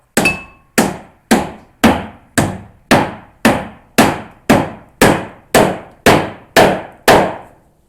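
A heavy hammer strikes car body metal in about thirteen sharp, evenly spaced blows, each ringing briefly before the next, loud and close with no voices.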